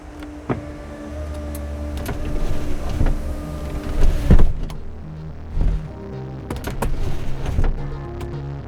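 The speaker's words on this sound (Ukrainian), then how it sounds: "Зараз ми відкриємо з вами дах." Whirring electric motor sounds with mechanical clunks and clicks as the convertible roof of a RENNtech Mercedes-Benz 600SL with a 7.6-litre engine opens, over a steady low idle hum.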